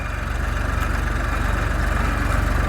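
A low, steady tractor engine chugs at an even rhythmic idle, close and continuous throughout, with no voices.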